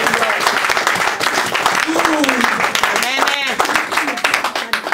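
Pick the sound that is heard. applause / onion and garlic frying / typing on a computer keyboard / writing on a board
applause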